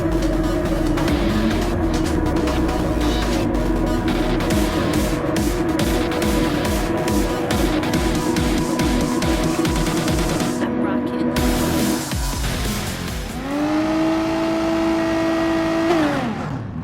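RSL1 GT3 race car revving hard at Suzuka in GT Sport, a loud, sustained engine roar that climbs through repeated upshifts, then drops and rises again near the end.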